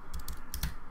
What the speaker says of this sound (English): We do it by typing import